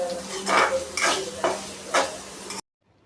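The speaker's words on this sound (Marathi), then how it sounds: "आता कांदा पण व्यवस्थित असा फ्राय करून घ्यायचा आहे" Chopped onion and capsicum frying in butter for pav bhaji, with four rhythmic bursts of stirring and scraping in the pan over a low steady sizzle, close and fairly loud, ending abruptly in silence.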